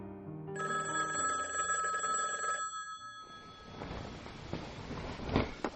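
A telephone bell rings at night, a close, steady electronic ringing that lasts a few seconds, then cuts off into a muffled rustling handling noise.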